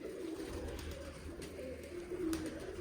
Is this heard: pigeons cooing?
yes